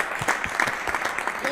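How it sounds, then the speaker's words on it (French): A live audience at a variety show claps in a brief, dense burst of close applause, with a voice mixed faintly into the clapping. "Est-ce qu'on peut applaudir pour elle, s'il te plaît?"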